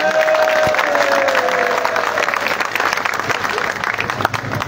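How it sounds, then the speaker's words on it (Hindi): A dense crowd applauds at a political party's victory celebration, loud sustained clapping throughout with a voice briefly audible over it. "ताली बजाओ यार।"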